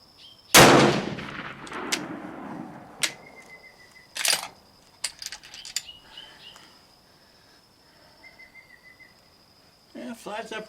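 A Steyr rifle loaded with boxer-primed ammunition fires a single sharp, loud shot at an outdoor range. Afterward come scattered clicks, handling noises and faint electronic tones.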